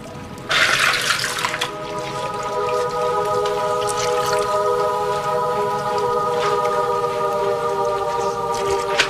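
Water pours steadily from a tap into a bathtub, starting with a sudden louder gush and settling into a constant running stream, close and alone without speech.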